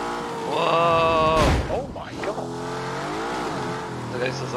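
Car in The Grand Tour game on PS4 driving hard, its engine revving up and down with a sharp tire screech midway and shifting pitch as it slides, loud and close.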